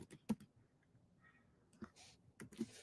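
Sparse keystrokes on a computer keyboard while code is entered, a few scattered quiet clicks spaced irregularly over near silence.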